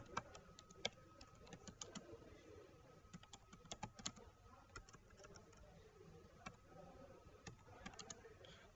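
Typing on a computer keyboard while writing in a new blank Word document, heard as steady, fairly quiet clicking keystrokes in irregular bursts with no talking.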